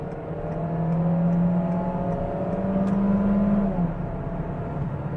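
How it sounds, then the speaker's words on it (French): A Peugeot 206 CC Roland Garros from 2000, 138 horsepower, accelerates along an expressway, its engine note rising steadily and holding loud and close for several seconds before easing off. "À la mini accélération comme ça, on sent que la boîte elle réagit quand même un peu à l'ancienne."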